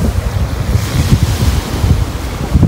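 Sea of Marmara waves washing ashore on a summer morning, with steady wind buffeting the microphone; a continuous, fairly loud rush of surf and gusts, no voices.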